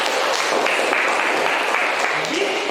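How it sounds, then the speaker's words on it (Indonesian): Steady applause from a group, a dense continuous patter of clapping that holds at an even loudness for about three seconds. "Nah, itu tepuk tangan dulu."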